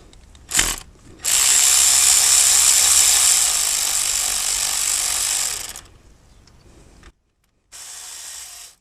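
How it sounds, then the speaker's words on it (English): A power drill loosens a bolt during a 2015 Buick Encore water pump replacement, buzzing loudly in one long burst after a short blip, then stops, followed by a quieter second burst after a pause. "I'm gonna use my drill to see if That will help me faster work"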